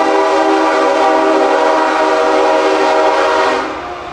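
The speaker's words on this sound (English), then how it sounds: "there's a train." A loud train horn blares in a sustained, chord-like tone close by, then cuts off and drops away near the end.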